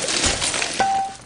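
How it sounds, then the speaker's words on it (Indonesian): Glass window of a minibus (angkot) smashed in a film scene, a single sharp crash with brief bright shattering and a thin ringing tone trailing after, loud and close with no voices. "ibunya langsung memecahkan kaca angkot"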